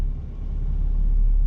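Low, steady engine rumble from a 2017 Ford F250 turbo diesel pickup while driving, a dense and even drone that grows slightly louder over a second and a half, with no talk.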